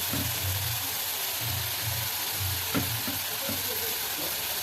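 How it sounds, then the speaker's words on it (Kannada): Onion and tomato masala frying in oil in a pan for sprouted green gram palya, giving a steady soft sizzle under low rumbling hum, with a few faint clinks of stirring. "ಹಿಂಗೆ ಎಣ್ಣೆ ಬಿಡೋವರೆಗೂ ಹುರ್ಕೋಬೇಕು ಚೆನ್ನಾಗಿ"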